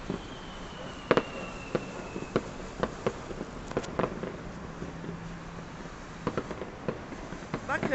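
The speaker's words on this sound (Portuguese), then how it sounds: "Bonitos fogos, bem pertinho, tá?" Fireworks bursting close by at a celebration in Brazil, a scattered series of sharp pops and crackles of varying loudness over a steady background hiss, with no talk.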